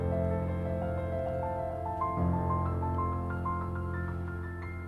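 Piano chords are rolled from the lowest note to the highest in several positions during an improvisation exercise, the notes climbing steadily upward, soft and close with a low hum underneath.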